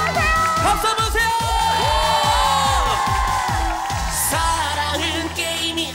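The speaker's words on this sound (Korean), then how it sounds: "박수 한번 주세요." Studio audience at a Korean TV music variety show cheers and shouts loudly, with a bright musical stinger playing over the crowd noise throughout.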